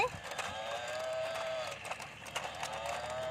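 Electronic moo from a plastic toy dairy cow, a single drawn-out synthetic lowing tone that fades and returns near the end, with soft clicks and movement noise close by.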